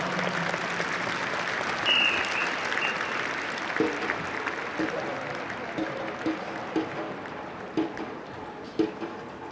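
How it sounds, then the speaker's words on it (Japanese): A crowd at the opening ceremony of a youth baseball tournament in Aichi applauds in thanks to the band and the Lily Angels performers, a sustained, even stretch of clapping with a few sharper knocks toward the end. "皆さん方にどうぞ御礼の拍手をお送りたいと思います"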